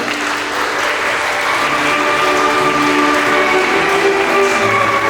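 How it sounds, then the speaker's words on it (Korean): Wedding guests applaud steadily as the couple enters the hall, a dense, continuous wash of clapping that fills the whole stretch with a constant level and no pauses. "큰 박수를 부탁드립니다."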